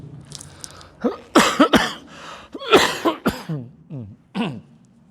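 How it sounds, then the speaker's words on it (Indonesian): Someone coughs repeatedly up close, a burst of harsh hacking coughs with throat-clearing, then a few weaker coughs trailing off. "masih batuk-batuk"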